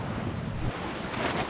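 Strong gusting wind on a sailboat roars steadily against the microphone with a broad, rushing buffet and faint water wash beneath, loud and close, with no voices.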